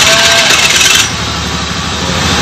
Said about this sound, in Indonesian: Mesin sudah hidup